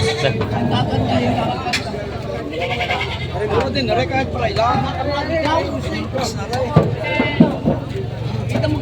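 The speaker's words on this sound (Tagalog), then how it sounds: "Pangkatay na kambing." Several goats bleat repeatedly at a goat sale amid a busy mix of background chatter and movement, the calls rising and falling close by.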